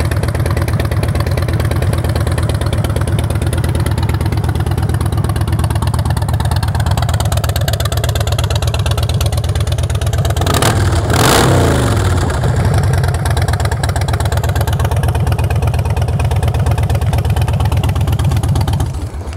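A fuel-injected 2007 Harley-Davidson Dyna Street Bob with 33,379 miles runs close by, a loud, steady idle with a low, lumpy thrum and one brief blip of the throttle partway through, no talking.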